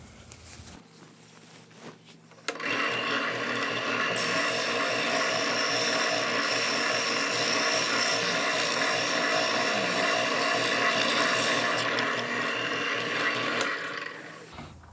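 A power sander starts abruptly and runs with a steady, loud whirring buzz for about twelve seconds on a small wood piece before winding down.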